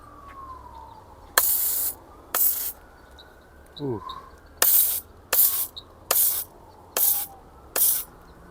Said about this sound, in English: So why don't we go ahead and spray this one more time.